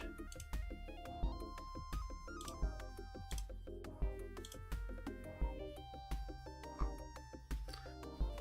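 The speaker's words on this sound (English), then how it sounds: "My phone's volume's at 0 and you still hear it." A melodic phone ringtone plays a bright repeating electronic tune with steady beats, moderately loud and uninterrupted, with no voices over it.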